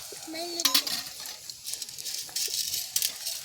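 Mustard seeds and curry leaves frying in hot tempering oil in a pan, with a soft crackle and sizzle, light utensil clinks and stirring scrapes, close by, after a brief voice at the start.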